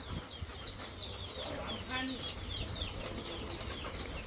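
Chickens being fed outdoors at a rural home, giving repeated short clucks and chirpy calls at moderate distance over a quiet, faint background.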